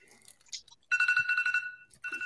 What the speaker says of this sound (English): That's the giveaway alarm right there.